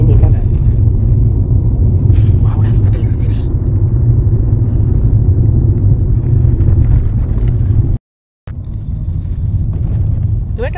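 A car on an open road accelerating hard to overtake: a loud, steady low rumble of engine and wind close by, briefly cutting out for a moment before resuming, with voices mixed faintly underneath.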